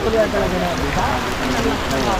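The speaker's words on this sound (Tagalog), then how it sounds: "Pumapatak na yung ulan." Steady rain falling outdoors in Mindoro, Philippines, a dense continuous patter at moderate loudness with no clear break.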